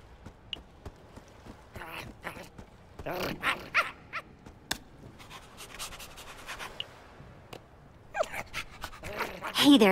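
A dog pants in Minecraft: Story Mode gameplay, a run of close, quick, breathy huffs in uneven bursts mixed with other short game noises.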